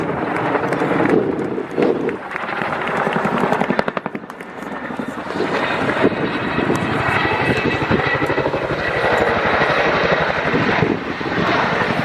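A Chinook twin-rotor helicopter flies a display at the RAF Cosford Air Show, a loud, steady broadband rotor and engine roar with rapid blade chop running continuously throughout, briefly easing around the middle before swelling again.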